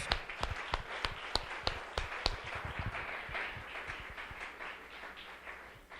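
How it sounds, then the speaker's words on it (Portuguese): Applause in a church congregation: sharp, fairly rhythmic clapping from many hands, loud at first and thinning gradually, with no talking over it. "Mais palmas ao Senhor Jesus."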